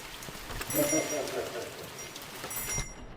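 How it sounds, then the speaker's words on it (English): Steady rain falls in the horror video game The Mortuary Assistant, a constant soft patter with a few faint tonal sounds drifting over it. "It's always raining."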